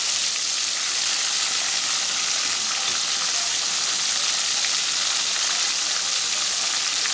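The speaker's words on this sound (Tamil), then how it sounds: "இந்த மாதிரி எல்லாத்தையும் பொரிச்சு எடுத்துக்க வேண்டியதாங்க." Nendran banana chips fry in hot oil with a steady, loud, bubbling sizzle that runs unbroken throughout, with no voices.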